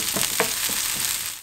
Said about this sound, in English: Add scallion whites when hot. Cook until aromatic.